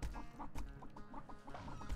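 Chicken clucking sound effects from the Chicku arcade cabinet game: quiet, repeated short clucks in a bouncy rhythm over a low electronic game background.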